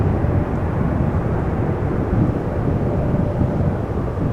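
Airplane passing at Amsterdam Schiphol Airport, a loud continuous low roar of jet engines holding steady without pause, no voices.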